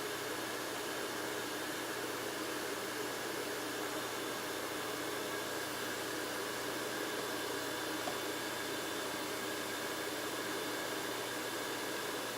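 A hair dryer blows steadily to dry paste piled into the seam of a paper envelope, a loud continuous rushing whoosh with a low motor hum that never lets up.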